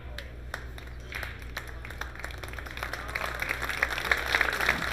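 Appreciative crowd applause after a shot in a 10-ball pool final at the 2023 World 10 Ball championship, a light scattering of claps that thickens toward the end, with faint talk beneath.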